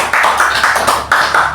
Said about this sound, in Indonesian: kita tepuk tangan kepada teman-teman sekalian